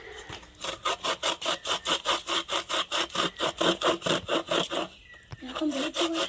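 Peeled raw mangoes with cumin, chili, salt and tamarind are crushed by hand with a tool in quick, regular rasping strokes, about three per second, close and steady, before the strokes stop near the end.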